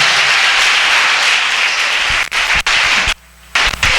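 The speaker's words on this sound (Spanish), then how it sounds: "Apláudale si le va a aplaudir" A church congregation applauding: a dense, loud wash of many hands clapping that holds steady, then breaks up into scattered claps and briefly drops out near the end.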